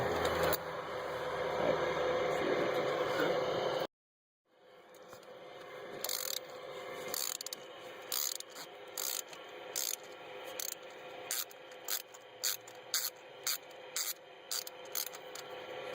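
A ratchet breaking loose spark plugs on a BMW M54 engine, a run of sharp rapid clicking bursts repeating rhythmically after an air-tool-like hiss and a brief silence, close and fairly quiet.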